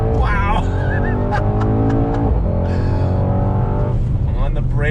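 A 2020 Mercedes-AMG GT 63 S sedan with all-wheel drive accelerates hard out of a turn, its engine note loud and close, rising in pitch through the gears with a brief tire squeal early on.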